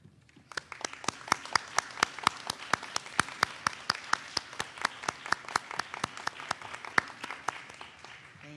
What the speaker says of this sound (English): I ask you to join me in a round of applause